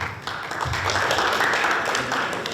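Audience applause at a school committee candidate forum sponsored by a teachers' union, a steady wash of clapping from a room of people lasting a few seconds at an even level.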